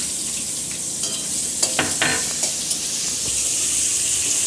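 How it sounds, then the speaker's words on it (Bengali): Chopped onion frying in a pan for mutton kosha, a steady bright sizzle with a few clinks and stirring scrapes of a spatula, close and alone. "পেঁয়াজটা একটু লাল লাল করে ভেজে নেব।"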